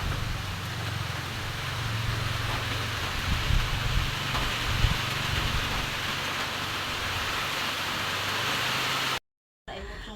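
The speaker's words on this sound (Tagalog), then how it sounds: "Sobrang ulan, oh." Heavy rain pours steadily over a rural farm area beside ripening rice fields, a dense continuous hiss with a brief dropout near the end.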